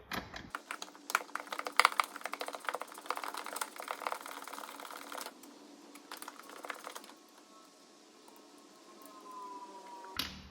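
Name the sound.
quarter-inch drive ratchet undoing 13mm bolts on BMW MINI brake master cylinder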